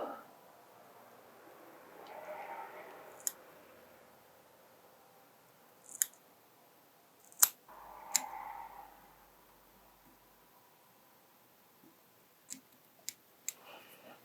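A few sharp scissor snips trim sheet foam at a fly-tying bench, isolated close clicks spaced out over a quiet background with faint murmuring between them.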